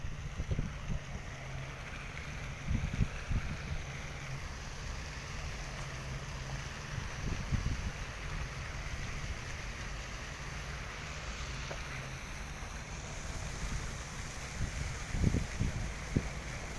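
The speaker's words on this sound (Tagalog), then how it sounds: "Ang dagat, oh." Sea waves and steady wind by the shore near a park, a continuous broad rush with low rumbling surges and occasional louder swells, no talking.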